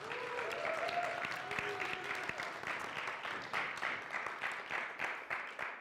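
Audience at a church gospel session applauding, a full steady wash of clapping from many hands, with a faint voice or tone briefly threading under the early part.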